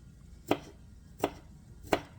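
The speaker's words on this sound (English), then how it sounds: "mince means to finely, finely chop" A kitchen knife chops garlic on a cutting board for sloppy joes: three crisp, evenly spaced thuds close up, with no one talking.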